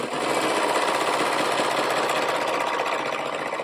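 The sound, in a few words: serger sewing a seam on shorts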